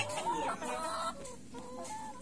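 Old chickens, three to four years of age, cluck in short, close, repeated calls in a rural northern Vietnamese garden yard.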